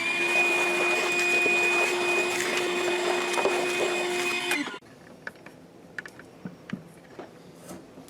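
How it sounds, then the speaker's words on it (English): A vacuum cleaner runs loudly with a steady high whine for several seconds, sucking up metal filings, then shuts off, leaving quiet clicks and small taps. "How about we vacuum that up just so we don't get any filings anywhere."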